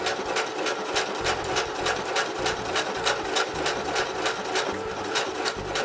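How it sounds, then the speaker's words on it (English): A Brother sewing machine stitches at a steady pace, its fast rhythmic needle clatter close and continuous with no voices over it. "Start sewing. Then I just turn the speed up a little bit."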